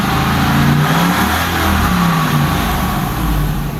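Land Rover Discovery II engine revved high toward 4,200 to 5,000 RPM, a sustained close roar with rising and falling tone as the throttle is held.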